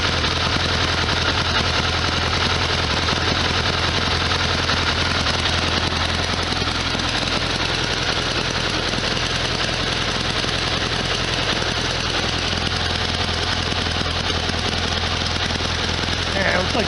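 The air-cooled engine of a 1973 VW Super Beetle runs steadily close by with a loud, even, rattling drone that stays constant throughout, with voices faintly under it.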